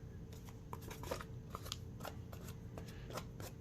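Scissors snip while trimming a journal with glue residue, quick clusters of crisp cuts in an irregular rhythm, close and fairly quiet.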